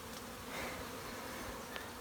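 A honey bee swarm on a rainy day buzzes in a dense, steady drone, faint and distant-sounding, with a few brief louder passes of individual bees.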